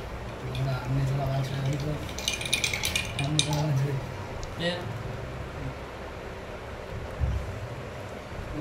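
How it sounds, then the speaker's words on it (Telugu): A spoon stirs cold coffee mixed with milk, giving a few quick bright clinks against the glass in the middle, with someone talking over most of it. "మంచిగా మిక్స్ చేసి ఇస్తాం మనలకు."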